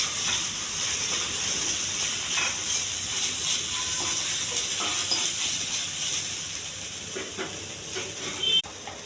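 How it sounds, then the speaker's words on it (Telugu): Soya paneer fries in a pan with chilli powder, salt and turmeric, giving a steady, fairly quiet hiss and sizzle with faint stirring clicks throughout. "కొంచెం బాగా వేగించాలండి."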